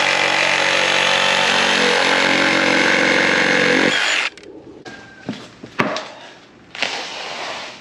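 A power saw cuts through solid wooden blocks with a loud, continuous whine for about four seconds, then stops abruptly, followed by scattered knocks and clatter of handled wood.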